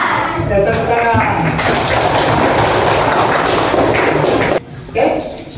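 Schoolchildren clapping their hands together in a classroom, a dense burst of applause lasting several seconds, loud and close, ending abruptly, with voices mixed in.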